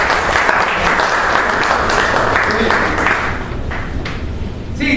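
An audience at a sales master class seminar claps loudly and steadily throughout, a dense wash of applause that thins slightly toward the end.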